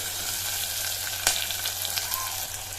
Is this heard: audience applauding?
no